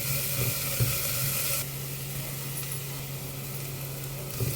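Ginger garlic paste and curry leaves fry in a pan for chicken curry, giving a steady close sizzle over a constant low hum, softening slightly partway through.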